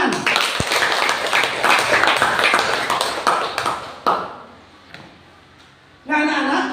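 Children in a religious studies classroom clap together in a busy burst, loud and close, which thins out into a few scattered claps and ends with a short renewed flurry. Voices can be heard among the claps.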